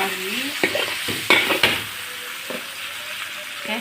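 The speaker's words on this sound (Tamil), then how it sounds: "நல்லா வதக்கிடுங்க." Food sizzles steadily in a hot pan while a utensil stirs and scrapes it, with a few sharper clinks along the way.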